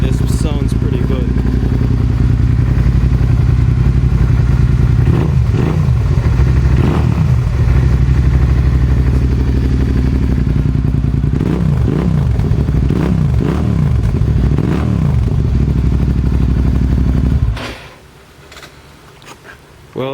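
A Suzuki SV650S motorcycle fitted with a Delkevic exhaust idles and revs up in repeated blips, loud and close, under speech, before cutting out near the end.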